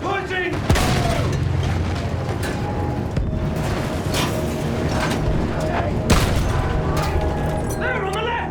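Heavy booms of a field gun firing on a Battlefield 1 battlefield, a few loud detonations at roughly one to three second intervals amid constant rumble, clatter and battle noise, with voices shouting over the din.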